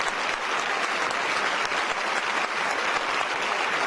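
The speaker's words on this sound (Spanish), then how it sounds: "Dale un aplauso por ello." Church congregation applauding during a sermon, a thick, even wash of clapping from many hands, sustained and moderately loud with no talk over it.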